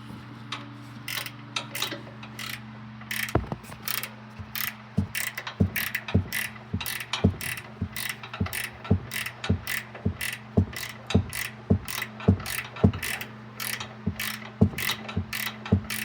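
A ratchet wrench tightens the shock bolts on a Ford Expedition, giving a steady series of sharp clicks at an even pace over a faint low hum, close and fairly quiet, with no speech.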